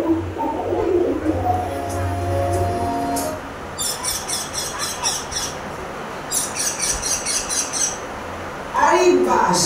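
Pigeons coo and squawk nearby while a voice talks over the early part, followed by bursts of bird calls in short repeated clusters.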